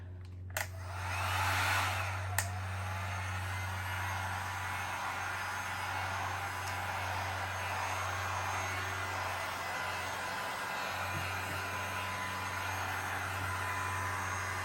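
A heat gun blows over a resin art pour, a steady close whooshing hiss of hot air running continuously after a couple of brief clicks at the start.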